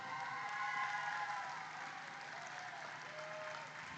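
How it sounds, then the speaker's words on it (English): Steady applause from a crowd honoring award winners at a celebrity steer show charity event at the Ohio State Fair, a dense even patter of many hands heard at a distance and fairly faint. "round of applause for all of our award winners"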